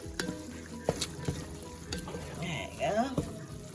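Ground beef mixture sizzles in a frying pan while a utensil stirs it, with scraping clicks against the pan and soft frying hiss, fairly quiet and close.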